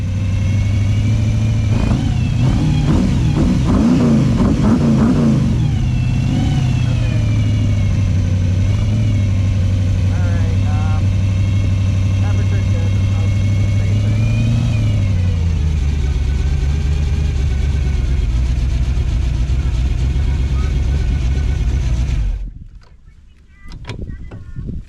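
A car engine runs on its first drive, revving up loudly and then settling into a steady hum that shifts in pitch as speed changes, and it cuts off abruptly near the end.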